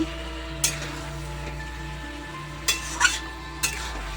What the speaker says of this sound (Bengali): আস্তে আস্তে নারী চালিয়ে কষাতে হবে আবার নারী চাড়িয়ে কষিয়ে নিচ্ছি